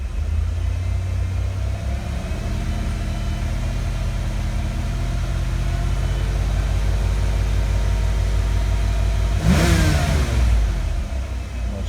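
Car engine held at a steady rev of about 2,000 RPM, a loud continuous drone with even, smooth tone, rising briefly in a sharper burst near the end; no voices.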